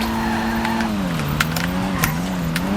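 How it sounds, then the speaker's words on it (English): Honda Civic-based Kanjo SJ, a front-wheel-drive car in GTA 5, driving with a steady engine drone and rising turbo whine, its pitch dipping and climbing, with faint skid and tire noise. "Oh, turbo spool sounds so good."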